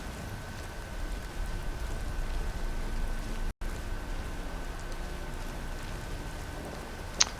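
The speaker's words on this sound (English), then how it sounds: "It's a nice rainy day here in Skyrim." Steady rain falls in Skyrim, a continuous broadband hiss of drizzle with no talk, a brief dropout partway through and a small sharp tick near the end.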